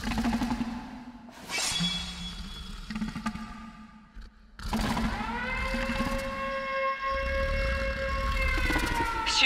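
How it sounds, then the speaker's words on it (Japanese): End-of-shift siren in the video game Killer is Dead, a loud sustained wail that rises and holds steady for several seconds over game music and rumbling background sound. "就業のサイレンよ"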